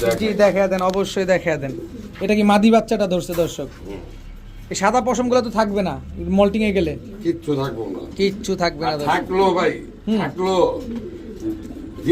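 White Budapest Hungarian high flyer pigeons coo in repeated soft, throaty bursts close by, with people talking throughout and partly overlapping the birds.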